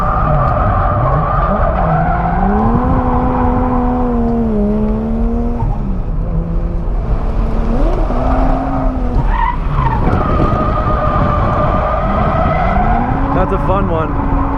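Drift car tires skidding and squealing while spinning on a track at night, loud wavering screeches rising and falling over engine drone, with a voice talking throughout.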